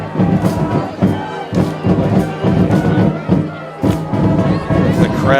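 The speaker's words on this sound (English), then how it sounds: "The crowd there." Stadium crowd noise at a high school football game between Washington Township and Williamstown, a dense roar with thumps and swells of cheering, loud and continuous, with voices talking over it.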